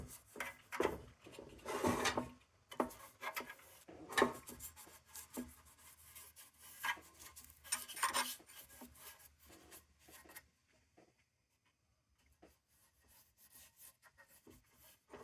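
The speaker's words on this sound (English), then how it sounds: "I'm going to wipe all this excess off of here." A rag rubs and wipes excess finish off an old Wards Better lantern (Embury Pilot) in soft, uneven strokes that go quiet near the end.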